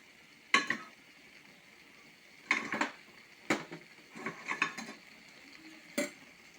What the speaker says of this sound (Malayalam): കടുക് വറുത്തത് ഒഴിച്ച് കൊടുക്കാം.